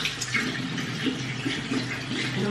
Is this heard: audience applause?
no